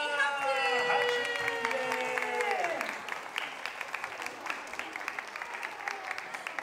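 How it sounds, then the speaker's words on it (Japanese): An audience claps at the opening ceremony of a children's art day at a Shinjuku creators' festival in 2018. Sustained applause starts under a voice and tones, then carries on alone as dense, steady clapping. "拍手。"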